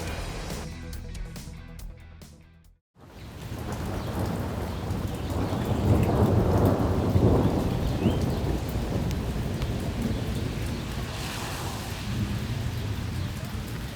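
A big storm rumbles with constant, rolling thunder over steady rain heard from inside a shop, loud and continuous after a brief dropout near the start, with no talk.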